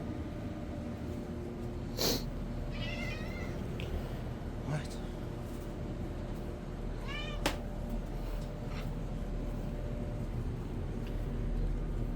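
A cat meows a few times over a steady background hum, the cries short and fairly close, with long quiet stretches between them.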